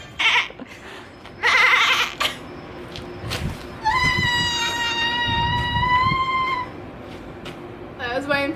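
A person imitates a screaming goat, giving a loud, wavering, bleat-like yell that holds for a few seconds, with other vocal outbursts before and after.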